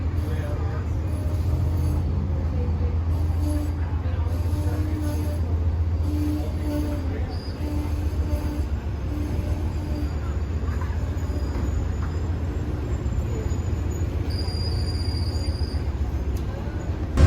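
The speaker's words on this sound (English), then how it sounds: "They're backing into the Amtrak station here in Roanoke." An Amtrak train backs into the station at Roanoke, Virginia, giving a steady low rumble of rail cars with faint wheel squeals and a few brief high tones, continuous throughout.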